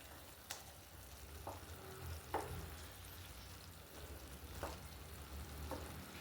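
Chilli chicken pieces fry gently in a pan over a low flame, giving a soft, steady sizzle with a few brief clinks and stirs scattered across it, and no one speaks.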